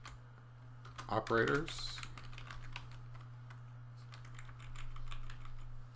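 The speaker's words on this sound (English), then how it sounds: "Hard to talk and type at the same time." Quick, uneven clatter of keys being typed on a computer keyboard, fairly close and continuous, with someone speaking a word over it and a steady low hum underneath.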